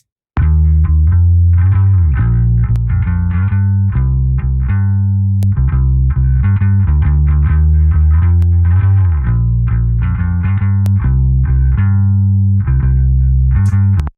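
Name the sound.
song bass processed through the Virelia plugin by Mixland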